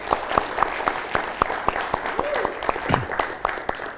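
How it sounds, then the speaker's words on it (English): A conference audience applauds the people being honoured, with evenly spaced, fairly sparse claps sounding like a small, moderately distant group, under a voice speaking. "So let's give them all a hand."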